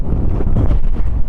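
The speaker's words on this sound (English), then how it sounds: "it's extremely windy. It's coming in gusts" Strong gusting wind buffets the microphone on an exposed fell top at Haystacks in the Lake District, a loud low roar that surges and dips in continuous gusts with no voices.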